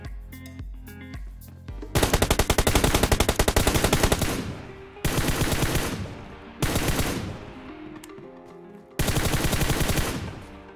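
Gunfire in the PC shooter game PUBG PC Lite: several loud bursts of rapid automatic fire, each a few seconds long with short pauses between, preceded by a brief rhythmic tonal sound.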